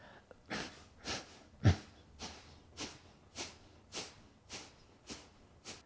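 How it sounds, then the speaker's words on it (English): A series of quick, forceful Kapalabhati yoga breath exhales through the nose, roughly one every half second, close and fairly soft with no talking. "Just focus on the quick, sharp exhales"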